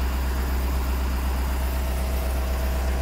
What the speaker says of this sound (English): So now it's just waiting for the engine to build pressure.